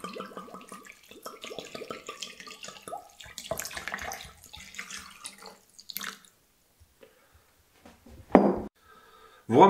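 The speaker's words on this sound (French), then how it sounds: "je verse sur ma morue l'eau froide" Cold water runs and splashes over salt cod in a kitchen, a shifting close trickle that fades to near silence before two short louder bursts of pouring.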